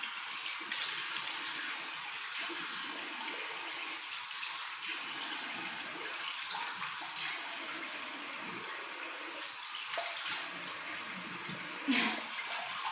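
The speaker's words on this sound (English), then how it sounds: "Wash off my face now." Tap water runs in a steady hiss as a face is washed at a sink, continuous and fairly close with a brief splash near the end and no speech.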